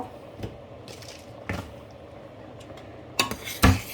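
Strawberry jam with red and white sugar stirred in a pot, soft squishy thick sounds followed by a couple of sharp clinks of utensil on the pot near the end.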